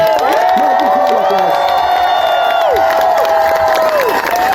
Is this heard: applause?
yes